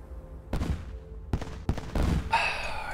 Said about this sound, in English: Explosions in the morning.